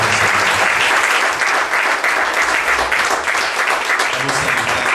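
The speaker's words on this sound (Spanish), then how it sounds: "¿Puede darle un aplauso, Señor?" A church congregation applauds steadily for five seconds, a dense continuous wash of clapping from a crowd in a worship service, with no break in the sound.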